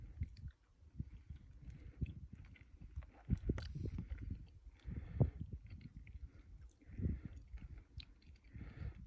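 A ripe Longue d'Août breba fig is bitten and chewed, producing soft, wet, irregular squishing and mouth sounds up close, quiet and steady over several seconds without talk.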